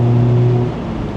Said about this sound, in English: I think the Miata sounds pretty good for being a 4-banger